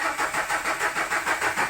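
A diesel car engine cranks but does not start, the starter motor turning over in a steady, rapid, rhythmic churn heard up close and alone.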